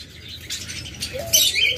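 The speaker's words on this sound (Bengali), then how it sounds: "আমাদের প্রত্যেকটা ঝাবা পাখি নতুন জোড়া মেলানো" Caged Java sparrow pairs chirp in short, bright tweets that grow busier toward the end, with a faint background hum and no talking.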